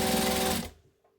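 A sewing machine stitches a fabric table runner, its motor a loud, close, continuous whir that winds down and stops within a second.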